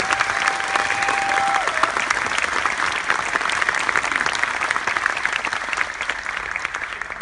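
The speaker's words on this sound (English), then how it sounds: "So another big round of applause, please." Sustained audience applause fills a university hall in Kuala Lumpur, dense steady clapping from a large crowd lasting throughout without pause.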